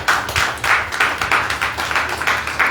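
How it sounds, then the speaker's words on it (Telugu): A church congregation claps together in praise, a steady rhythmic run of about a dozen crisp claps, close and fairly loud with no voices over it. "చప్పట్లు కొట్టి స్తోత్రం చేయండి."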